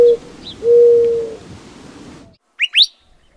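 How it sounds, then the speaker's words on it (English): A mourning dove in the Sonoran Desert gives a soft, drawn-out coo followed by a longer, clear cooing note, then a short pause and a couple of brief higher chirps. "Mourning dove."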